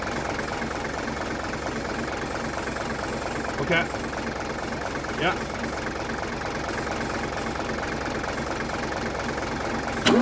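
A Mercedes-Benz W123 250 engine, run after 17 years parked, idles with a steady, even drone and faint mechanical knock, heard close; a person briefly says a couple of words over it.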